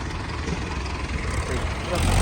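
A tractor engine rumbles low and steady while reversing at a stadium earthwork site, growing slightly louder toward the end, with people talking faintly in the background.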